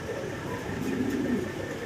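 Fancy pigeon at a wholesale pigeon dealer cooing: a low, continuous warbling coo heard close up over a faint background hum, with no clear talk.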